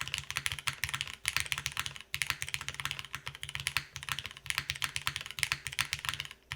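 Rapid, continuous typing on a TKD Pt.1 75% top mount mechanical keyboard, dense clacky keystrokes in an uneven rhythm, close and clear with no talking.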